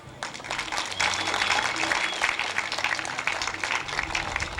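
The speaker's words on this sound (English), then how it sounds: "I think they deserve a round of applause as well" Audience applause for sponsors at the 1989 Canadian Championships, a steady wash of many hands clapping that holds evenly through the whole stretch, with a faint voice or murmur underneath.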